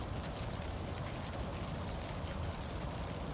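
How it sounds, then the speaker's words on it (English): Rain falls steadily in the video game Wuthering Waves, a soft, even hiss of drops with no breaks throughout. "The rain's getting heavier."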